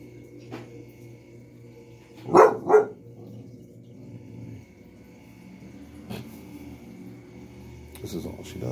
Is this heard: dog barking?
yes